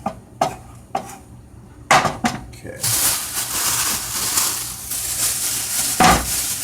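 A metal frying pan clanks and knocks onto a stovetop in a few sharp hits, followed by a loud, steady hiss as food hits the hot pan in a kitchen while an omelette is made.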